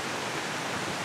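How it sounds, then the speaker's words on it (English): A waterfall beside a mountain path on Cadair Idris in Wales, a steady broadband rushing roar of falling water, continuous and even, with no voices. "Oh, it's a lovely waterfall, isn't it?"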